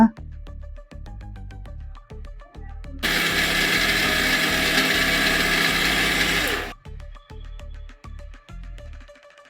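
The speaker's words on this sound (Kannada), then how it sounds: "ಕೇಸರಿ ದಳಗಳನ್ನು ಒಂದು ಅರ್ಧ ಸ್ಪೂನಷ್ಟು ಸೇರಿಸ್ಕೊಂಡು ಚೆನ್ನಾಗಿ ಗ್ರೈಂಡ್ ಮಾಡ್ಕೊಳ್ಳೋಣ" A kitchen mixer grinder whirs loudly for about three seconds while grinding homemade protein powder with sugar and saffron strands. Clicks and knocks of handling come before and after the burst.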